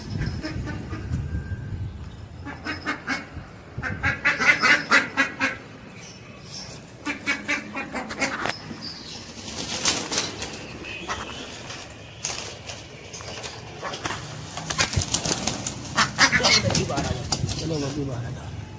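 Pigeons being shut into a coop, with bursts of wing flapping, shuffling and soft cooing amid household clatter, while a person talks and coaxes the birds inside throughout.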